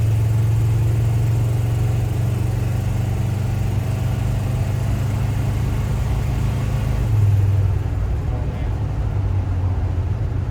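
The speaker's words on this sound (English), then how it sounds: "Big block with good exhaust, nothing like it, guys." A 1975 Dodge Monaco's big-block V8 rumbles steadily through its exhaust, loud and close, holding a deep even idle with a slight shift in tone near the end.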